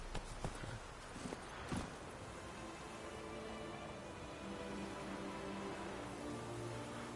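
Clip-clop of Geralt's horse Roach in The Witcher 3, a few distinct hoof strikes early on, then a steady soft trot under a low, continuous wash of game ambience, fairly quiet overall.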